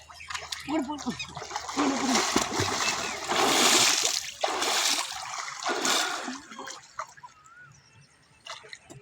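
Water splashes and sloshes around a person floating in a pool, irregular close splashes and trickles rising and falling while someone talks over them.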